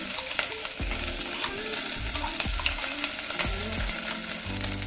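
Mustard seeds, cumin, ginger and green chili frying in hot oil, a steady close sizzle with scattered crackles and pops running unbroken throughout.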